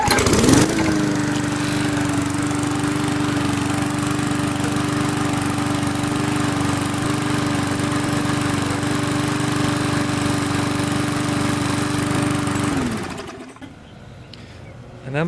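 A Briggs and Stratton horizontal lawnmower engine with a plastic carburetor fires up on one pull and runs at a loud, steady drone for about twelve seconds before cutting off.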